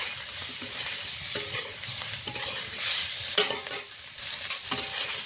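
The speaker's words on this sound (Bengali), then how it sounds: "এখন দিয়ে দেবো স্বাদ মতো নুন, হলুদ গুঁড়ো দিয়ে ভালো করে আরেকটু নেড়ে নেব।" Fish with salt and turmeric is stirred in a hot frying pan, with steady close sizzling and repeated scraping strokes of a spatula against the pan.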